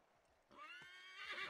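A horse whinnies loudly after a quiet moment in Assassin's Creed 3 Remastered, a bright, quavering neigh that rises and trails off, with faint hoofbeats underneath.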